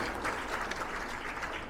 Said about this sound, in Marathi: त्यासाठी जोरात टाळ्या होत्या